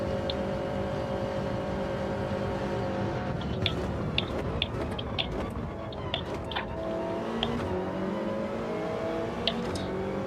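Toyota 86 race cars in Gran Turismo 7 run a steady engine drone through a pack race, with pitch shifts between gears, slipstreaming and occasional faint tire squeal.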